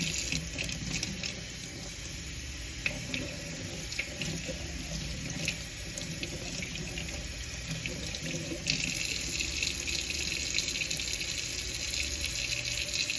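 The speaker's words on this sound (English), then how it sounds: "So we're just gonna rinse it so we have the dirt off anyway." Fresh herbs are rinsed under a running kitchen tap, a steady close hiss of flowing water splashing into a sink that continues unbroken throughout with no voices.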